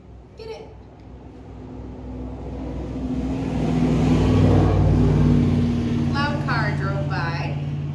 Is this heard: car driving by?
yes